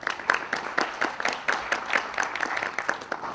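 Audience applause for a final-round panel member at a university debate competition, steady clapping from a modest crowd with distinct individual claps throughout.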